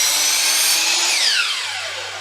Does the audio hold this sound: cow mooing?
no